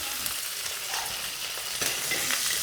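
Green chillies and curry leaves sizzle and crackle steadily in hot oil, a close, continuous frying hiss with a few sharper pops, and nobody talks.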